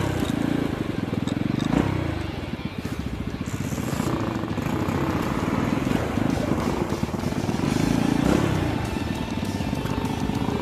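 A Rusi Korak 110cc motorcycle engine revs hard with a steady low throbbing drone that rises and swells in a couple of surges, loud and close, with no talk over it.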